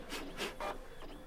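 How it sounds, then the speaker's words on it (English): A slow office printer runs in a few broad, rasping passes, each swelling and fading in a roughly even rhythm, quiet and close with no talk over it. "This printer is driving me crazy. It's so slow."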